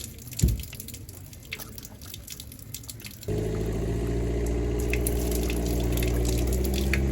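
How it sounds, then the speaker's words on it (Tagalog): Outdoors, scattered drips give way to a steady, loud rush of water from a tap as someone washes their hands, running without a break to the end. "Maghugas ako ng kamay."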